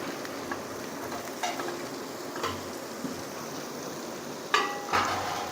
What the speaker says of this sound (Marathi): सो आता याला चांगलं तेलामध्ये परतून घ्यायचं आहे आपल्याला.